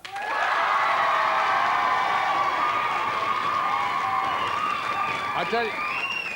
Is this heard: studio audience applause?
yes